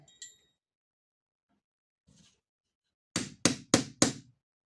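A large hammer taps a part of a Haenel 312 rifle onto its rail: four sharp, evenly spaced metallic knocks close by, after a few faint handling sounds.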